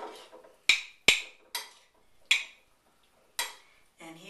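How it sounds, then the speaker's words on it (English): A raw chopped salad is stirred in a bowl, giving about six sharp, sparse utensil clacks against the bowl with quiet pauses between them, and a voice begins at the very end. "Gently stir to distribute the colors."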